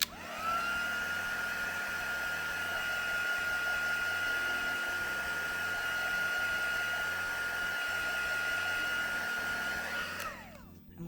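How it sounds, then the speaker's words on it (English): Heat gun blowing over colored paint on a craft project, a continuous loud whooshing hum with a steady whine that runs for about ten seconds before switching off. "We'll just give those just a quick run over with the heat gun just to get them dry so we don't smudge things."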